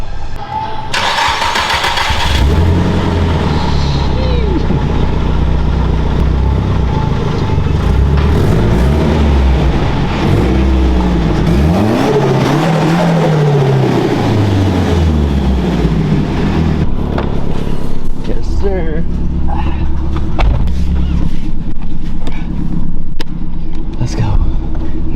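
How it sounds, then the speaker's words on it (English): A Nissan Skyline R34 GT-R fires up and pulls away, its engine cranking, catching and then revving and rumbling loudly up close through rising and falling pitches, with voices talking over it. "So let's go take the car for a test drive"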